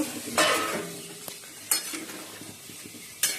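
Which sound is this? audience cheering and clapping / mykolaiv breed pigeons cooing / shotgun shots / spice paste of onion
spice paste of onion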